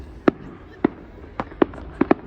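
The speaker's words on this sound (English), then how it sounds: "Apologise for that green massive fireworks on the sky." Large fireworks bursting in the night sky, six sharp separate bangs spaced irregularly over about two seconds, loud and echoing, with no talk.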